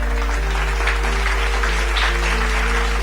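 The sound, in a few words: congregation applauding the reading of the word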